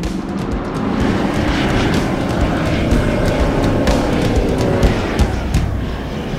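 A Toyota 76 series with a 2.8 engine, automatic and four-wheel drive, driving through sand dunes, its engine a steady, loud broadband roar with wind rush, continuous and close.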